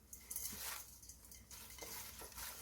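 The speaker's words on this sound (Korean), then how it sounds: "털어가면서 묻혀주세요." Chive kimchi with anchovy fish sauce, chili flakes and sesame seeds being tossed and mixed by hand, giving soft, continuous wet rustling and squelching at close range, quiet and steady with no talking.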